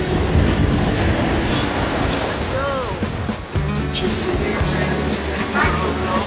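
Surf rolls and washes continuously beside the shore, heavily buffeted by wind noise on the microphone, with faint voices in the background.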